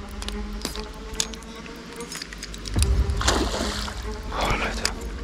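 A large fish thrashes through river water, giving a few sharp, close splashes and sloshes that rise over a steady background of flowing water.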